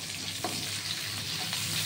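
Onion frying in hot oil with cumin seeds for a Bengali-style chicken jhol, a steady close sizzle with small crackles and pops and no talking.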